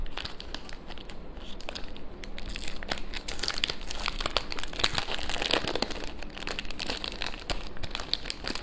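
Plastic packaging from a Temu order of nail accessories crinkles and rustles up close in a steady, busy stream of crackling handling noise, with no talking.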